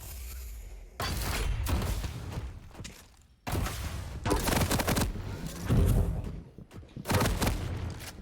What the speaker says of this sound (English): Peppering with the machine gun, trying to land the rail.